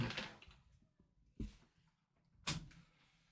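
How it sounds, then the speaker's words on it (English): Indoors, a door is handled nearby, giving a few faint knocks and shuffles and then two sharp bumps as it swings shut and latches, with no talk. "I've just realized I've got to close the door"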